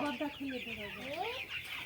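A chicken clucks repeatedly nearby, its short rising and falling calls running together in a steady stream.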